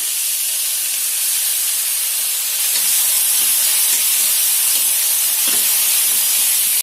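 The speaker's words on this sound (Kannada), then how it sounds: "ಟೊಮೆಟೊ ಹಾಕಿದ ನಂತರ ಒಂದು ನಿಮಿಷ ಫ್ರೈ ಮಾಡಿ" Tomatoes frying in a pan for vegetable sambar give off a loud, dense, continuous hiss of sizzling that stays steady throughout with no voices.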